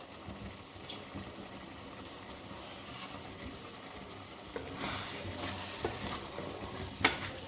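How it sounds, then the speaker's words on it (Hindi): Masala kaleji (liver) stirred and cooked on a low flame, with a faint, soft sizzle that rises a little toward the end, broken by a few light scraping stir strokes. "अब हम इन सबको मिक्स करके तकरीबन 2 से 3 मिनट हल्की लो फ्लेम पे, दम वाली फ्लेम पे रख के इसको पका लेते हैं।"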